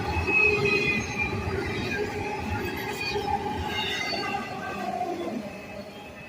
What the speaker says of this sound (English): Rails are still singing.